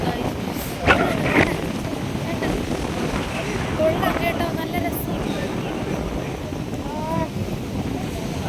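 Strong wind gusts buffet a microphone at a beach at night, a steady broadband roar with possible surf beneath, while people talk over it throughout.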